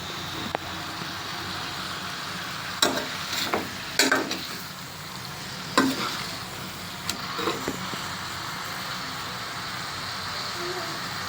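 Chicken fry with onions, green chillies and masala being stirred in a pan: a steady sizzle with several sharp scraping strokes of the spoon at irregular intervals, close up and with no talking.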